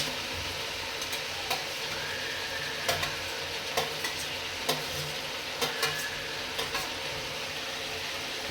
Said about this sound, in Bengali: টমেটো দিয়ে ভালো করে মিক্স করে নেব।